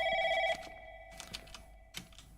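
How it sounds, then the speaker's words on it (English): A telephone rings in the Hemoglobin Project video game, one clear electronic double-tone ring followed by a faint trailing tone with soft clicks after it. "I guess we gotta pick up the phone, maybe."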